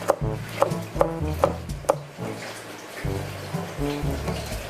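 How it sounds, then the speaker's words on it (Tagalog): Garlic chopped into small pieces with a knife on a board, a quick run of sharp evenly spaced taps close by, then softer, denser chops. "ingredients ay ang garlic. So, hiwain lang din ng maliliit."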